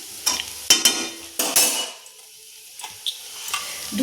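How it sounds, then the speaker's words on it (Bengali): Egg chowmin fries in a pan while a spatula stirs it, giving several sharp clinks and scrapes against the metal between stretches of soft sizzling, close and without talk. "এবার কিন্তু আমি নেড়ে নেব"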